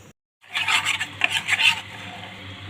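Sugar caramelizing in a pot for pudding, with a metal utensil scraping and stirring against the pan in a run of rasping strokes that fades to a faint hum, without speech.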